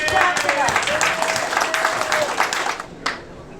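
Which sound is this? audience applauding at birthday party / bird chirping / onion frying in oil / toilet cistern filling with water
audience applauding at birthday party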